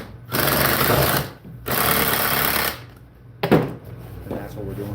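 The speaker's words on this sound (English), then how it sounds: "running that stainless steel screw in" A power driver whirs in two sustained bursts as it runs a stainless steel screw into a lobster buoy, close and loud, followed by a short clunk and quieter handling noise.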